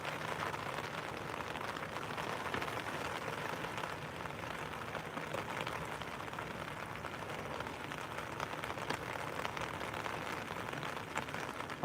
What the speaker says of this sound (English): hearing the rain thumping hell out your car roof.